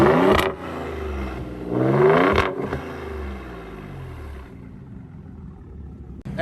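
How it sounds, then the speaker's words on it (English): A 2020 Ford Raptor with a Borla exhaust, resonator delete and factory tips is revved twice close up, each throaty blip rising and falling, then settles back to a low, rumbling idle. "you know that throaty Raptor engine is alive"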